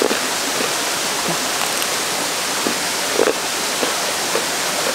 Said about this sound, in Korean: 물소리가 장난이 아닌데?